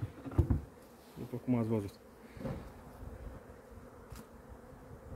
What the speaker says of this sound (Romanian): Albinele zboară frumos.